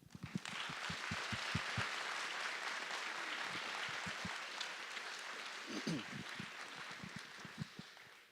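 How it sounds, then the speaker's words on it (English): An audience at a carol ceremony breaks into sustained applause, dense clapping throughout with a few louder individual claps standing out near the start and end. "please join me in a round of applause in honor of their diligence and hard work"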